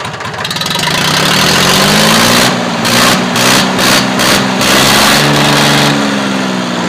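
Mahindra 265 tractor engine running at a steady idle, loud and close, with a low rumbling hum and slight pitch wavering throughout, no talking over it.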